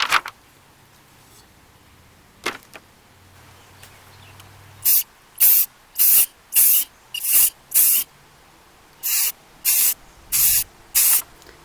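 Can of flat black satin spray paint misting over an upside-down vase, loud close hissing bursts, one long and then eight short sprays in an even rhythm with gaps between.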